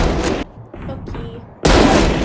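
A grenade explodes in Valorant, a loud close burst that cuts off into a brief lull and then roars back in a heavy, sustained blast.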